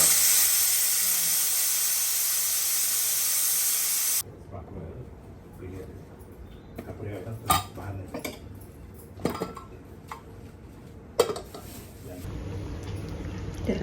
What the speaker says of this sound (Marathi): कुकर फोडते